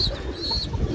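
Racing pigeons cooing close by, a short soft burst of low throaty coos alongside a thin whistling tone, moderately loud and without speech.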